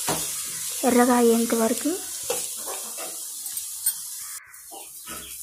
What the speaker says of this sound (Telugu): వీటిని కొంచెంసేపు ఫ్రై చేసేసుకుందామండి